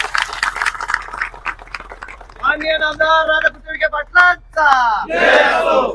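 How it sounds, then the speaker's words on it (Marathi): A crowd at a public gathering in Shirdi cheers and shouts loudly for guardian minister Radhakrishna Vikhe Patil, with raised voices rising in bursts over a murmuring crowd. "एकदा जोरदार टाळ्या पालकमंत्र्यांसाठी आपण कराव्या"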